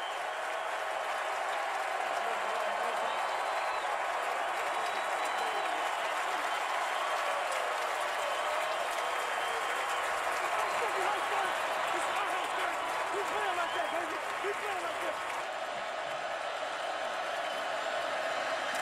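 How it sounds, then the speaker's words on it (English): A large football stadium crowd at a Michigan State versus Wisconsin college game roars and applauds continuously as the first half runs out, a broad, sustained wall of cheering with a commentator's voice faintly underneath. "Listen to this crowd as the final seconds tick away the first half."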